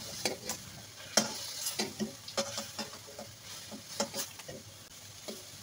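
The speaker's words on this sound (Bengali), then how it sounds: "সব মশলা দিয়ে টাকি মাছটা আমি কষিয়ে নিয়েছি, এখন আমি মাছগুলো উঠিয়ে রেখে দেবো।" Taki fish cooked down in spices in a pan, with spoon stirring and scraping in irregular close knocks over a low, steady frying sizzle; no voices.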